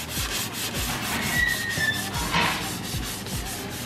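Steady abrasive rubbing of sandpaper across a Datsun 240Z body panel, with repeated back-and-forth strokes roughly every half second, close and continuous.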